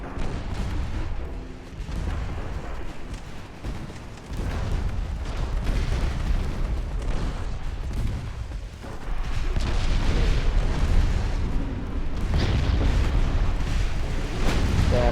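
Torpedo hits exploding against a warship in the naval game Ultimate Admiral: Dreadnoughts, heavy booming blasts and rumbling detonations rolling one after another, loud and continuous, with no voice over them.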